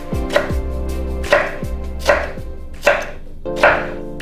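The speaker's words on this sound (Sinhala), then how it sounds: "මම කරන්නේ මෙහෙම මේ එක කෑල්ලක් තුනට කපලා පොඩි කියුබ්ස් කපනවා." Pineapple cut into small cubes on a board, five sharp, evenly spaced knife chops, close and loud, each with a short ringing tail.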